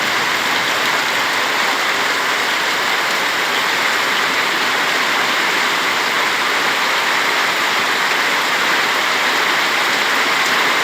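Rain falling steadily and heavily, a dense constant hiss of drops with no pauses or voices, loud and close throughout.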